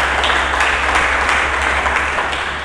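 A church congregation claps during a sermon, a short, steady wash of applause with a low hum underneath and no speech over it.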